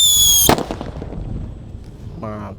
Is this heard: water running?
no